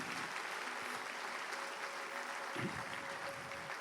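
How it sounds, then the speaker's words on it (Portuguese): Church congregation applauding, a steady wash of faint, distant clapping throughout, with a brief voice heard under it. "Aplauda forte, glorificando a Deus."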